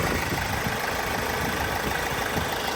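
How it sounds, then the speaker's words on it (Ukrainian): A 2018 Opel Astra K 1.6 diesel engine idles steadily and loudly up close, a continuous rumbling drone with a faint rhythmic knock. "Двигун працює рівно, м'ягко, тихо, питань немає."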